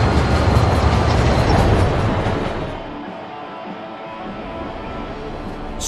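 An express train in the Spider-Man 3 video game rushes past with a loud, dense rumbling roar that fades partway into a lower rolling clatter.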